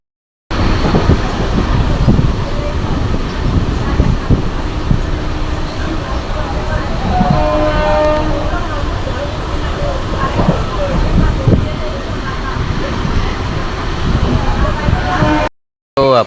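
A train at Vadnagar railway station gives off a continuous low rumble and rattle of rail cars, with faint squeaks, while people speak over the noise throughout.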